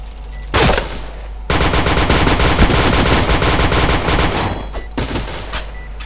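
Machine gun fire in the shooter game Point Blank, loud and close: one short burst, then a long sustained rapid-fire stream lasting about three seconds, followed by another brief burst.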